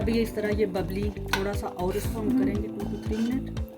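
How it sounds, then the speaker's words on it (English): Milk being stirred in a cooking pot for sawaiyan, a spoon scraping and clinking against the pot bottom in a steady repeated rhythm, close and fairly loud, with a voice talking over it. "Make sure to keep stirring your milk while you cook it"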